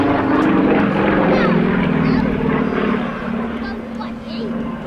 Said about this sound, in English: put the aircraft through a high dynamic aerobatic routine like this